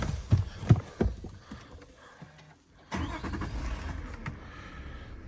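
A tractor engine cranks and catches, a few loud starter thumps at first, then a short lull before the motor fires up and runs, close by.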